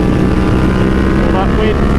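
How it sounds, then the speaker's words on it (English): Heavy wind roar buffeting the microphone while riding a BMW F 900 R Cup Racer motorcycle, a loud continuous rush with engine hum underneath. "All that wind."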